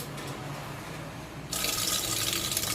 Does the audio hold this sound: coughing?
no